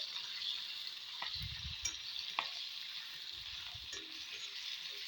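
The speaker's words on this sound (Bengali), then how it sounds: "একটু দিয়ে দেব তেজপাতা, তার সাথে দেব কিছু কুচিয়ে রাখা পেঁয়াজ। এখন একটু ভেজে নেব এটাকে" Bay leaf and chopped onion fry in oil with a steady, close hiss, while a few short stirring scrapes and knocks punctuate the sizzle.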